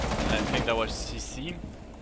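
Rapid video-game gunfire crackles in dense, continuous bursts across two seconds, with voices talking over the shots.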